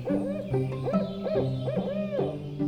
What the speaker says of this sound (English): Was that an owl?